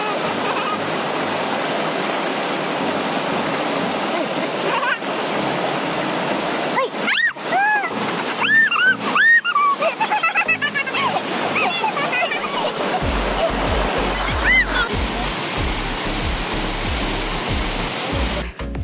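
Hinipaan Falls, a waterfall, roars as a loud continuous rush throughout, with people talking and calling out over it in the middle.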